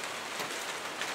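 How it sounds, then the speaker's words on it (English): Steady rain patters on surfaces outdoors amid gusty wind, a dense even hiss with faint scattered drops and no voices. "It's kind of some rain going on and some crazy wind here"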